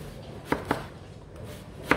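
Three crisp knife chops through onion on a cutting board, two close together then one after a pause, each sharp and near against a quiet kitchen background.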